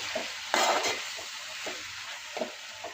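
A spoon stirs steamed gongura (sorrel leaves) in a pan, making several close, uneven scraping strokes over a soft, constant sizzle.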